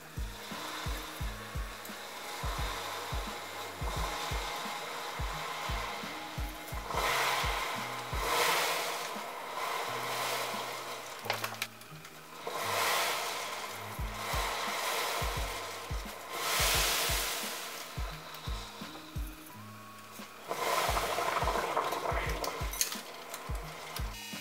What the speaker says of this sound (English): I am now buffing up that bodywork. A wire brush is just attending to the areas.